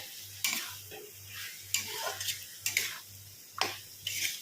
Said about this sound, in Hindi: कटहल को मसाले के साथ भूनना है